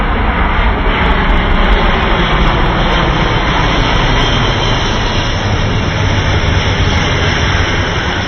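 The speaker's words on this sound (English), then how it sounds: "This is a very impressive piece of technology, an impressive aircraft." A fixed-wing aircraft roars overhead in a loud, steady wash of engine and jet noise that holds unbroken throughout, close and dominant, with faint scattered clicks on top.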